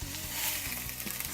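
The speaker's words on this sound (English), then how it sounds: "You hear that good sizzle? That means the pan's plenty hot enough." Roast beef sears in a hot pan with a continuous close sizzle and crackle, broken by a few soft stirring or shifting knocks.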